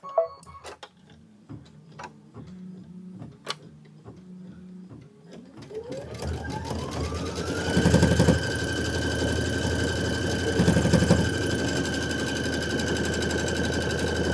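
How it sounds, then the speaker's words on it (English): An embroidery sewing machine stitching a final outline, starting with light clicks and short whirring bursts, then spinning up into a steady, loud mechanical hum with rhythmic stitching, close and without talk. "now we're going to do our final outline stitch"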